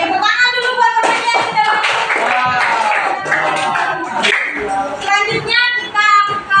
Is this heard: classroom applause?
yes